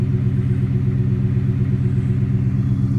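A Ford F-150 King Ranch pickup with a Flowmaster 40 dual exhaust rumbles steadily at close range on a snowy day, a deep, even engine note with no talking.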